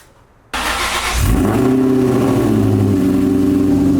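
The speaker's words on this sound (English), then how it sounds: "that's the exhaust I need on my Termi" After a moment of silence, a Terminator Cobra's engine bursts to life and revs into a loud, sustained exhaust drone through new headers, close and continuous.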